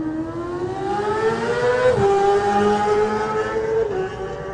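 A Prez Racing Yamaha Supersport race motorcycle at the Isle of Man TT accelerates hard away from the start. Its loud, high engine note climbs steeply, dips at a gear change and climbs again as it pulls away.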